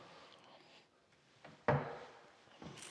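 A kitchen cupboard in a 1960s house, fitted with late-1990s hinges, is opened and closed: a soft creak, then one sharp wooden knock, with faint room noise around it.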